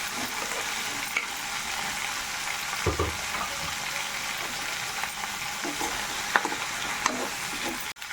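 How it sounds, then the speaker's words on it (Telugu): Green chillies sizzle and fry in a pan for a ridge gourd chutney, a steady broad crackle with occasional stirring scrapes and taps, close and continuous with no talking. "పచ్చిమిర్చి కొంచెం ఫ్రై అవనివ్వాలండి"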